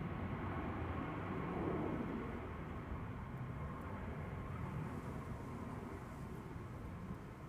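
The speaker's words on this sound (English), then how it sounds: "Ryanair to Gdansk rolling in the background, EIFS, flight 4094" A Ryanair jet rolls at Manchester Airport, heard as a distant, steady low rumble of engine noise that fades slightly, with no voices over it.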